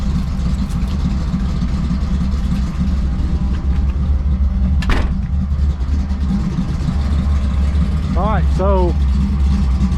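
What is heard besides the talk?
1979 Ford F100 truck with 408 stroker engine running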